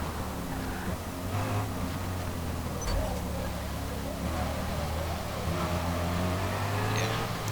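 A powerful car in Forza Motorsport drones with a steady engine note and slight pitch swells, while someone talks over it throughout.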